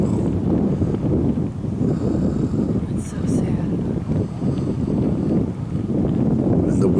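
Strong wind roaring steadily across the microphone near a lakeside house fire, a continuous loud rumbling gust with a few faint higher sounds in the background.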